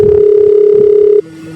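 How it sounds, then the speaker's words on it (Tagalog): A cellphone emits a steady, loud single-pitch tone while a call is placed, holding for over a second before cutting off abruptly into a quieter background. "Tatawag ko sa cellphone."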